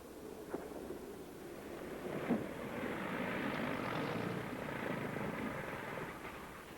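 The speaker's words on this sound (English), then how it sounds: "Take it easy in the landing, Shane." A steady, loud aircraft engine drone with wind rush as a plane comes in to land, continuous throughout with a slight swell midway, no voices.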